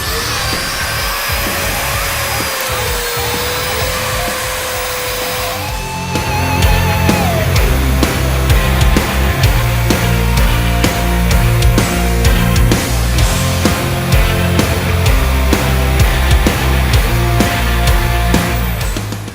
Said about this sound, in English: what the Fein pipe polisher allows you to do is to quickly and easily take out any of those imperfections on the surface